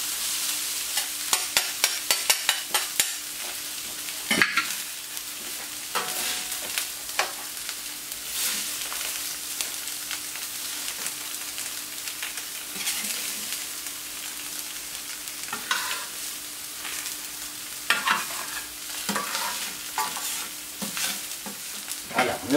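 Rice with shiitake mushrooms and sesame seeds frying in a pan, a soft continuous sizzle broken by scattered clicks and scrapes of stirring, close and fairly quiet, with no voices.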